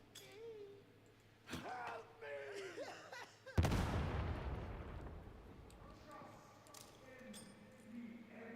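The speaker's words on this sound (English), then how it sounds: "Grenades can be equipped and thrown" A grenade goes off in a video game after being thrown, one sharp heavy blast that decays into a long rumble, preceded by a narrator's voice and soft effects.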